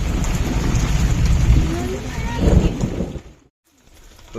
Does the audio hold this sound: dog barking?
no